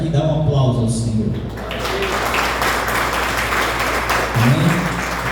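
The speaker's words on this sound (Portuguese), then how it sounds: "Dá um aplauso ao Senhor." A church congregation applauds, with a rush of clapping that swells after a voice and continues under more speech.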